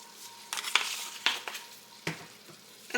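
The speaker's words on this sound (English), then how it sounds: "Now while my beef is cooking up, I am going to add in some onion powder" Beef frying and being stirred in a pan, with faint sizzling broken by several louder scrapes and clinks of a utensil against the pan.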